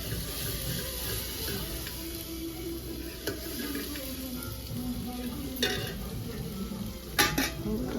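Whole spices such as coriander, black pepper, cloves and cardamom sizzle softly as they are stirred and roasted in a pot over a stove, with occasional scraping and metallic clinks of the spoon against the pan.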